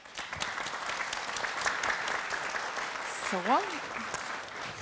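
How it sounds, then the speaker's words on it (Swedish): Applause from the audience at the close of a panel on AI at an internet conference, a steady patter of clapping with a voice briefly heard over it. "Applåd till våra talare."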